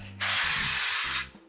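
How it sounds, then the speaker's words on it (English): Coconut cooking oil sprays from a can onto the edges and bottom of a baking dish for stuffing, one continuous close hiss of about a second that cuts off sharply. "Just spraying the edges"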